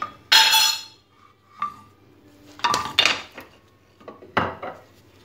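A frying pan with a little oil is handled on a stovetop, making a few distinct metallic clanks and scrapes separated by quiet gaps, close and fairly loud.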